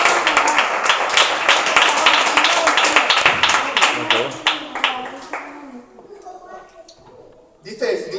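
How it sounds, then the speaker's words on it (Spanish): A church congregation claps for the Lord during an afternoon service, dense close applause for several seconds that thins into scattered claps and murmuring voices, with a brief burst at the end. "Le damos un aplauso al Señor en esta tarde."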